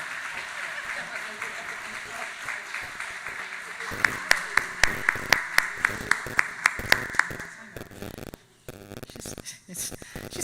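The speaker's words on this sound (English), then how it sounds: "So let's give her a round of applause." A small audience at a village State of the Village address gives a round of applause, a dense wash of clapping with a steadier run of distinct claps near the end before it fades, voices murmuring underneath.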